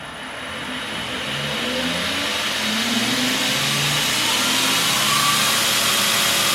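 A 2x72 belt grinder runs in reverse, its motor whirring up and then holding a loud, steady hum with a faint tonal whine on top.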